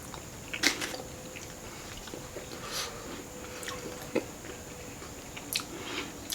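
Someone bites and chews Dutch oven pepperoni pizza close up, soft crunches and moist chewing in irregular bursts, quiet and without talk.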